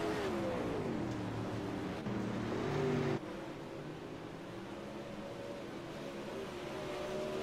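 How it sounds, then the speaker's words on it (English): Super late model race car engines in the iRacing sim at USA Speedway: a steady, droning engine note that rises and falls in pitch, loud at first, then dropping to a quieter hum. "Sometimes the sound of the cars, they go up and down a little bit."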